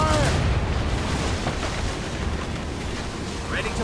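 Ship cannons fire in Assassin's Creed Rogue as a loud, booming broadside erupts at the start, then rumbles on as a heavy, noisy roar.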